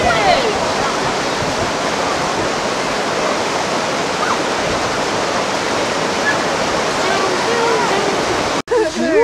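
Brook water rushes at an old sawmill site in New Hampshire, a loud, continuous broadband roar that fills the scene, cut off briefly at the very end.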